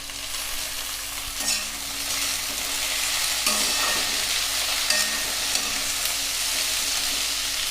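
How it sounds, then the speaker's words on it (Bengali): Onions and tomatoes frying in a pan for egg curry give a continuous close sizzle, with occasional scraping and stirring strokes, growing slightly fuller midway, with no talking. "পেঁয়াজটা যখন এই স্টেজে থাকবে তখন আমরা দিয়ে দিব টমেটো।"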